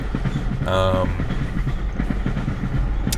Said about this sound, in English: Small train break. This will be quick.